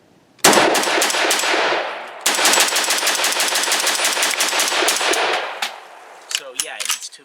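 A CETME rifle fires Tula ammunition in two long, rapid bursts of loud, sharp gunshots separated by a brief pause, followed by a few scattered metallic clinks and taps.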